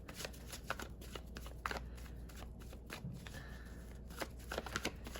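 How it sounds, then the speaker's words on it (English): A deck of tarot cards being shuffled up close, with quick riffling bursts and soft slapping taps repeating over a few seconds in a quiet room. "Let me just shuffle these again."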